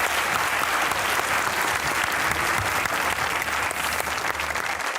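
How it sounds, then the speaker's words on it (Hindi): Applause for Salman Gilani, a studio audience clapping steadily and fairly loud for a few seconds. "सलमान गिलानी साहब के लिए तालियां"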